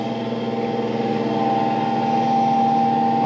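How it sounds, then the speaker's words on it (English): A 1915 Arco Wand Model 341 built-in vacuum pump running with its exhaust blocked, a loud, steady mechanical hum with strong tonal drone and fast pulsing as it labors toward stalling, close and without talk. "I can show you how the pump stalls out"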